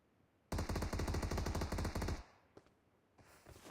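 Rapid automatic gunfire in the mobile battle royale game PUBG Mobile during a competitive match, a loud sustained burst of about a second and a half, then a single faint shot and quieter game ambience.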